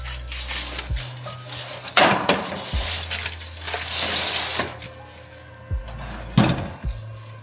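A dish of sauced chicken wings slides onto an oven rack with wooden rubbing and scraping, a few sharp knocks and a door-like thud, in a quiet kitchen with no talking.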